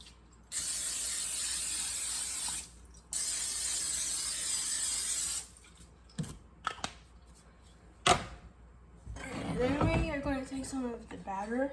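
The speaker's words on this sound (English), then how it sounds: "And then we need to spray it with cooking spray." Cooking spray hisses onto an open waffle iron in two long steady bursts, followed by clicks and handling noises, then a person talking near the end.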